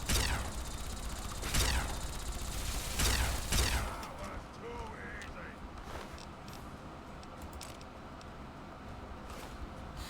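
Bursts of gunfire in Fallout 3 crackle through the first four seconds, loud and rapid with sharp transients, then fade into a low rumbling ambience with scattered mechanical noises.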